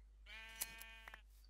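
A single sheep bleat from the Minecraft video game, one clear, nasal, wavering cry about a second long, fairly quiet and alone.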